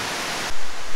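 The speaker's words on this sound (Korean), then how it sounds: "이게 복내 폭포입니다." Bongnae waterfall on Ulleungdo island pours in a loud, close, continuous hiss with a brief shift in tone midway.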